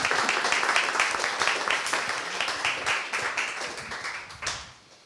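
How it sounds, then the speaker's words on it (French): Audience applause at a landscape panel discussion: scattered, distinct handclaps close by that thin out and fade over a few seconds, ending with a last few claps. "Oui, on peut applaudir, bien sûr."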